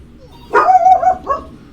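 An 80-pound female Great Pyrenees barks nearby: one loud, slightly whiny bark and then a shorter, softer yip, with no talking over it.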